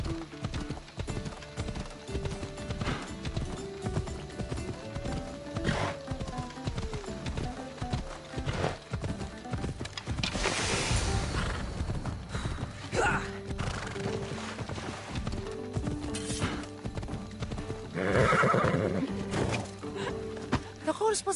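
Horse in the game Assassin's Creed Odyssey on PS5: repeated hoof clip-clops and a couple of neighs and whinnies over game ambience, fairly close and moderately loud, with no speech.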